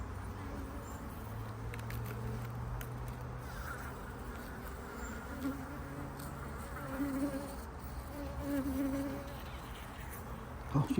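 Honeybees buzz continuously at close range around a hive destroyed by robber bees, a droning hum with occasional louder passes as individual insects fly near.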